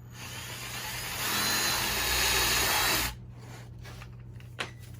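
A power drill with a 1/4 inch bit bores through two pieces of wood for a bird feeder, a loud steady whine for about two seconds that cuts off abruptly, leaving quiet room noise and a small knock.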